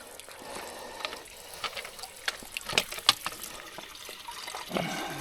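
Old water glugs and splashes out of a bottle outdoors near a mountain lake, an irregular run of close, bubbly pouring with small sharp spatters toward the end.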